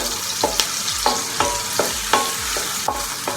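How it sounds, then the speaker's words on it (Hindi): Chicken korma with roughly chopped onion cooks in a pan, a constant close sizzle broken by regular spatula stirring strokes roughly every half second. "अब इसको हम नरम होने तक पकाएंगे।"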